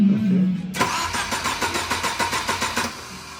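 A 1971 Volvo 1800E with a B20 engine cranks and fires, then settles into a steady, slightly uneven idle with regular pulsing beats, heard close and with no voices.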